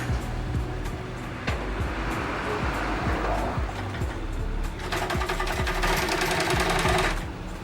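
Sewing machine running continuously in a small workshop, a loud steady rattle of rapid stitching with a brief faster burst near the end.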